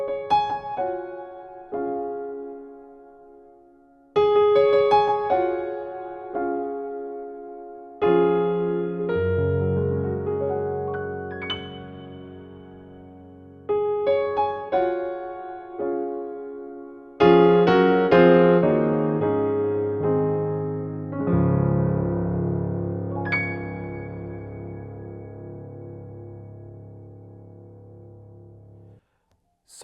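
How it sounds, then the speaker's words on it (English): Nord Piano 5 acoustic piano voice with its built-in reverb switched on, played as a series of loud, sustained chord phrases with a long reverberant tail behind each, heard alone with no talking. "let's just play something, same piano voice with the reverb effect on as well."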